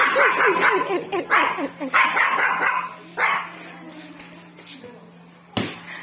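A dog barks repeatedly in rapid, agitated bursts, close by, with whimpering yips and a final sharp bark after a pause; voices murmur around it.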